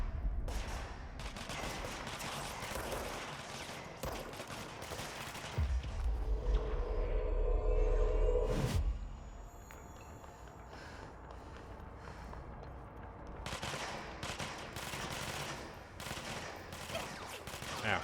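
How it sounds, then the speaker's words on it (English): Rapid bursts of gunfire aimed at the player in the video game Control, a dense volley of shots cracking at moderate loudness over a low, rumbling background. "Ow, who's shooting me?"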